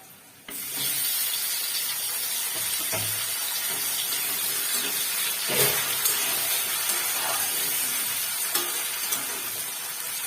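Tomato is tipped into fried onions in a hot pan and erupts into a loud, close hiss and sizzle that holds steady, with a few stirring scrapes and bursts of spitting oil and no one speaking.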